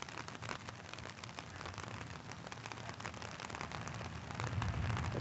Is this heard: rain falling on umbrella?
yes